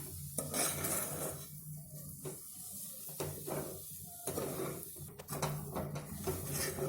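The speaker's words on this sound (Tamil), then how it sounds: "இந்த வெல்லம், இந்த பருப்பு, ரவை எல்லாம் சேர்த்து நல்லா கரையணும். அதுலேயே இப்படியே கிண்டிக்கிட்டே இருக்கணும்." A jaggery, lentil and semolina mixture for Chettinad ukkarai is stirred in a pan, giving faint, irregular scraping and clinking of a spoon against metal over a soft background hiss, without any talking.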